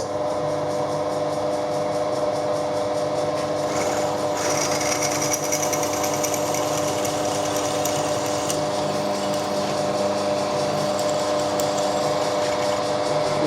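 A milling machine drives a 6.8 mm tapping drill into a metal part, a steady loud whine and grinding chatter that runs on without a break.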